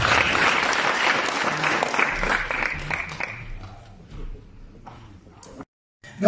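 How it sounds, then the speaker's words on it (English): An audience claps for a presenter at a presentation in South Africa, a moderately loud burst that fades after about four seconds into quieter room noise before a brief silence. "Let's clap hands for Mtu."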